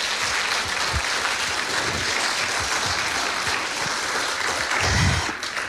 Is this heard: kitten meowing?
no